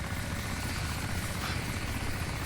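Helicopter in the video game DayZ during a fight near an airfield: a steady, fairly quiet rotor chop and whine that fills the clip, with no talk over it.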